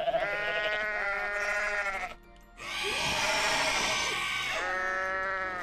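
Goat bleating from the video game Goat Simulator: two long, wavering, nasal bleats sound close and loud, separated by a short gap with a rougher, noisy stretch between them.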